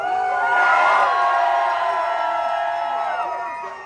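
A large crowd at a live rap-metal concert in Tampa screams and cheers loudly, a dense wall of high-pitched shouts and whoops that swells early and slowly tapers off.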